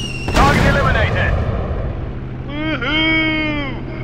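Bombs drop and explode in the WW1 aerial combat game Warplanes WW1 Sky Aces: a sharp loud blast rolls into a rumbling boom, and an engine-like whine sweeps through the rest of the clip.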